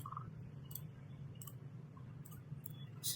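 A computer mouse clicks on an edit icon in a user interface, with four sharp, evenly spaced clicks close to the mic over a faint steady background hum.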